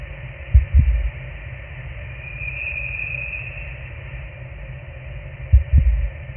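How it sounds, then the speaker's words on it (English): A slow, muffled heartbeat thumps from a shell-like alien object in the space horror game Voyager-19, with one double beat near the start and another near the end over a steady low hum and eerie high drone. "It's another one of those shell-like objects, only this time it's actually emitting sounds. A heartbeat."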